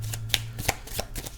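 Tarot cards are shuffled in quick, soft riffling bursts, about six close, quiet flurries with no voices.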